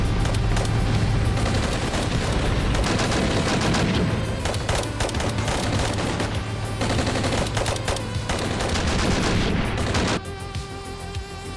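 Gunfire and explosions from a battle in the video game Armored Brigade II, with dense overlapping rifle and machine-gun bursts, heavy booms and a constant low rumble; the scene changes abruptly near the end.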